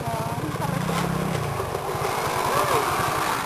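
A motorcycle engine putters steadily with a rapid, rhythmic throb like a tricycle's, heard close up at a trail race site, while people talk over it.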